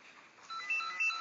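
A phone ringing inside a VR video game, a short electronic ringtone that starts softly and rises in a few steps of tonal beeps, heard alone.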